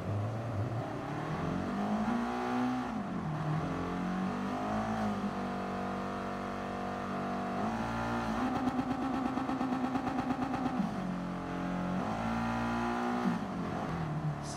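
A Toyota MR2's engine in Gran Turismo Sport revs up and down through gear changes, a sustained near whine that climbs in pitch, dips at each shift and climbs again, with no talk.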